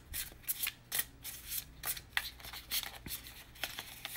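Deck of cards being shuffled during a cartomancy reading, a quiet series of quick riffling bursts and soft flicks in an uneven rhythm, close by with no talk.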